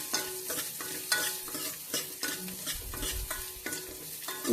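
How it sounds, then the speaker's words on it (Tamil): Shallots and cumin sautéing in a pan, with a spoon scraping and stirring in a steady rhythm over a low sizzle of frying. Close by, and no one speaks. "லைட்டாக வதக்குனா போதுமானது."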